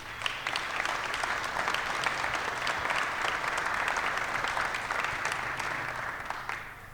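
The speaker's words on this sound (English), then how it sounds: "so give yourselves a round of applause" An audience at a company executive Q&A gives a sustained round of applause, a dense, even wash of clapping that holds steady for several seconds before tapering slightly at the end.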